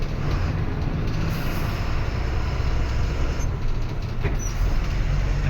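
Loud, steady road noise of a vehicle driving out onto the road, a dense rumble with broad hiss throughout and no break.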